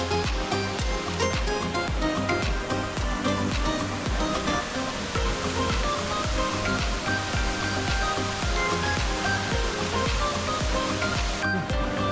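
Wani waterfall in Azad Kashmir pouring among large boulders, a loud, steady roar of rushing water that fills the whole stretch without pause, with no voices over it.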